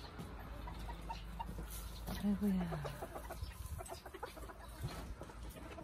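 Chickens cluck and murmur close by in a farmyard, with one drawn-out rising call standing out midway. A person speaks briefly over the birds.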